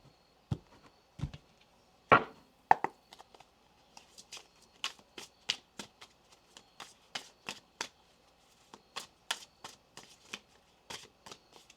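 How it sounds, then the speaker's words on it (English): Tarot cards shuffled by hand in a quiet room, a few heavy riffles at first and then a long run of quick, crisp snaps and flutters, close and alone with no talking. "One more shuffle here."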